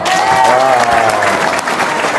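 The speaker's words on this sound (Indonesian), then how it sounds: "Oke, tepuk tangan dong." Audience applause at a live show in Indonesia, a steady dense clapping wash throughout with a few voices and whistles mixed in, loud and close.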